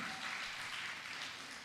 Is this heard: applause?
yes